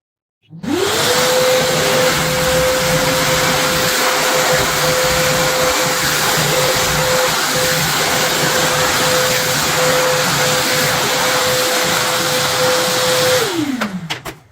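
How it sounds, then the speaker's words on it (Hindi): An American Micronic 1600W wet and dry vacuum cleaner sucks up water spilled on a floor: a loud, steady motor whine with hissing airflow that starts abruptly, holds evenly for about thirteen seconds, then winds down. "वैक्यूम क्लीनर को स्टार्ट करते हैं"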